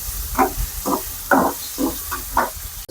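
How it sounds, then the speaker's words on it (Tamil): Onions sautéing in a pan give a steady, soft sizzling hiss, with a few louder pulses rising at intervals, as if stirred, and no talking. "வெங்காயத்தை போட்டு நல்லா வதக்கி விடுங்க. செந்நிறம் வர வரைக்கும் நல்லா வதக்கி விடுங்க."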